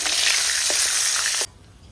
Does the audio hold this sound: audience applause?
no